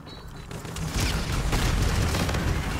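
Sustained gunfire from the RPR rifle in Call of Duty Infinite Warfare multiplayer, dense booming shots and explosions that swell after the first second and stay loud throughout.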